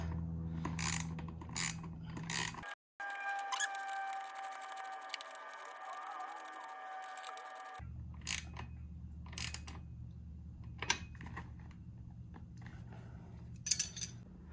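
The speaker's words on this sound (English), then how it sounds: "I've got a ratcheting gear wrench." A ratcheting gear wrench clicks in quick bursts as it tightens the seat bolt on a Hiboy S2 scooter, the close, crisp ratchet sounds separated by a short silent pause.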